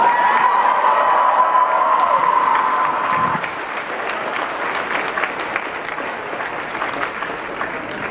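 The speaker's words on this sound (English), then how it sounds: "while we get a round of applause for Bill." Loud, sustained applause from a large audience, dense clapping throughout with a few cheers mixed in, easing slightly after the first few seconds.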